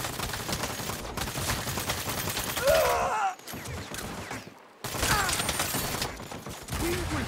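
Sustained gunfire during a firefight in the video game Saints Row, dense bursts of shots that drop out briefly twice before resuming, with game voices and effects mixed in.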